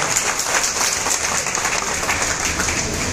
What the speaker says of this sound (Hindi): आपसे गुजारिश करता हूं कि तालियों के जरिए, अपने शब्दों के जरिए अजीत दादा का शुक्रिया